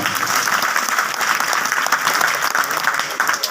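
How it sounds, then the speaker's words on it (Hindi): Loud, dense applause from a crowd at a Hindi-language public gathering, steady and sustained throughout with a faint murmur of voices beneath. "उनके सम्मान में जोरदार ताली बजाएं"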